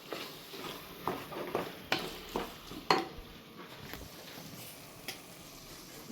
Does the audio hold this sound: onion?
yes